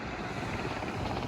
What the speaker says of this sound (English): in the background, the helicopter keeps going over.